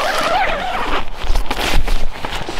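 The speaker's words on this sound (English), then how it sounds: "it zips up from the middle, from the bottom, like that, and then across" The zipper on the door of a One Tigris Tangram ultralight backpacking tent is pulled in several quick rasping strokes, loud and close, with fabric rustling between the strokes.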